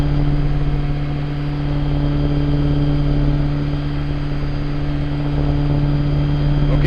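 A training helicopter's engine and rotor in a cockpit, a steady, loud, droning whine with a strong constant hum, continuous and unbroken throughout, with no talk heard.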